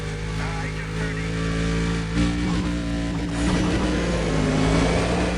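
Car engine in Need for Speed: Undercover accelerating hard around a ring circuit, a rising, fluctuating motor note up close, with someone talking over it.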